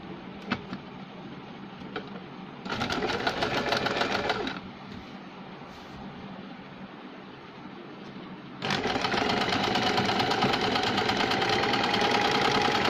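A sewing machine zigzag-stitches a saree fall with a picot foot, running in two loud steady bursts separated by a quieter hum of handling.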